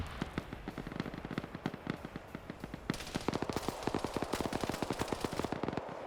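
Suppressive machine gun fire in a military video game, rapid sustained bursts of sharp shots that grow denser and louder midway, rattling on continuously at a moderate distance.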